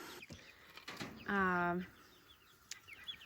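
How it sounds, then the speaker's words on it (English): Newly hatched black chicks heard close and quiet, with a short cluster of clear peeping calls mid-clip amid faint handling noise. "We did get some chicks."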